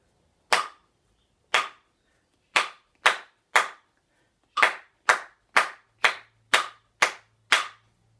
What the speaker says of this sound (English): I'm going to think long notes and short notes as I'm clapping it.